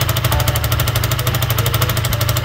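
A motorcycle engine runs close up with an exhaust leak spitting from the rusted end of its pipe, a loud, steady, rapid pulsing chug with a breathy hiss riding on each beat, no talking.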